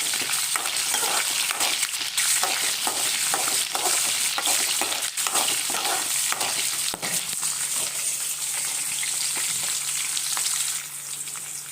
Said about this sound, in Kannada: ಇದನ್ನು ಚೆನ್ನಾಗಿ ಒಂದ್ಸಲ ಫ್ರೈ ಮಾಡ್ಕೊಳ್ಳೋಣ.